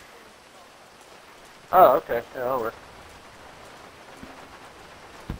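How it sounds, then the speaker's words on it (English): Steady in-game rain in GTA V, a soft continuous hiss that runs through the whole stretch while someone briefly speaks over it. "the rain kind of added to it a little, I guess"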